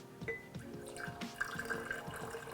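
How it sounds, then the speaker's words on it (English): Liquid pours into a mason jar while making mayonnaise, a soft close trickle with small drips and splashes running steadily throughout, fairly quiet. "So I'm just gonna pour this straight into the mason jar"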